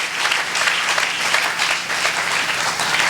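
A church congregation applauding the Lord, a dense, loud burst of many hands clapping together, sustained and even throughout without talk.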